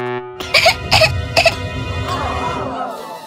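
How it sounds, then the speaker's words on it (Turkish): Three harsh coughs in quick succession, loud and close, followed by wheezy, whimpering vocal sounds in a dubbed comedy scene. "Öksürmeyi kes."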